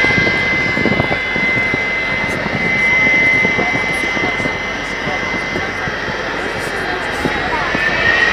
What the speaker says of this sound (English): massive jet bus pulls up next to the fuel farm and gets ready to move